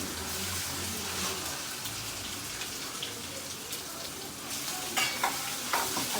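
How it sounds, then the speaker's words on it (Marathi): Roasted onion sautéed in a garlic masala paste for a Banjara mutton dish, a steady close sizzle under frequent scraping stirs, with a few sharper clinks near the end and no voices. "आता आपण याला छान परतून घेऊ। आता आपल्याला टाकायचं याच्यामध्ये भाजलेला कांदा।"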